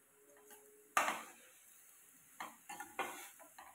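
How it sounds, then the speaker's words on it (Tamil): Chopped onions sautéing in a pan with salt added, heard as a soft sizzle broken by several sharp scraping stirs of a spoon against the metal, close and fairly quiet with no talking. "நம்ம வெங்காயம் கட் பண்ணி வச்சுருந்ததை இந்த மாதிரி நல்லா கொட்டி நல்லா வணக்கிக்கோங்க."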